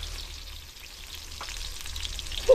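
Steady low sizzle of food sautéing in a pan, faint and continuous with a soft clink near the end, no one talking.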